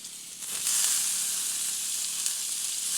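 Chopped beetroot and carrot hit a hot pan with an immediate hissing sizzle that swells within the first second and then holds steady and fairly loud, with no voices.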